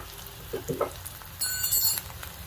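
Spices, hing and salt sizzle as they are stirred in a hot pan, with close, light frying crackle, a few scraping stirs and a brief metallic clink.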